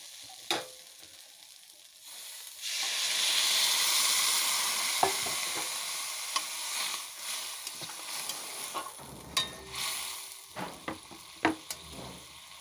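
Water poured onto fried ginger, cumin, coriander and chilli paste for a small-fish curry bursts into a loud rushing sizzle, then settles into a softer simmer broken by sharp spoon scrapes and knocks against the pan.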